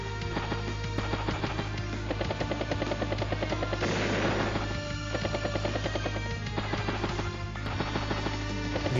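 A battlecopter in the video game Advance Wars: Days of Ruin: a steady, buzzing rotor drone with a constant low hum, overlaid by game music and brief effect bursts, holding at even loudness throughout.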